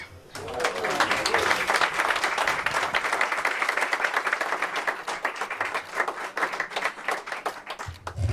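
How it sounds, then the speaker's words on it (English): Steady applause from a crowd at an announcement by the DC mayor in Ward 8, dense clapping sustained for several seconds before thinning out toward the end. "Let's give Jonathan a big, big, big round of applause."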